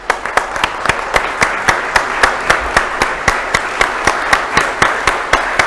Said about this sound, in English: a huge round of applause again for my family and my friends